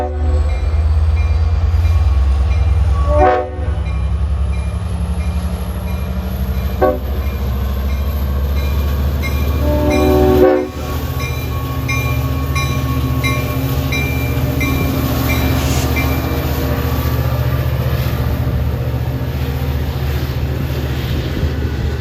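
A Long Island Rail Road locomotive on the snowy Montauk Branch rumbles steadily past, sounding several loud multi-tone horn blasts, one short and others longer, over a continuous low engine drone.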